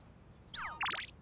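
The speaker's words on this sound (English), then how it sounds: "Text message from Bebe." A text message notification chime in Persona 3 Reload, a brief bright run of rising synthetic tones lasting about half a second, clear and alone after near silence.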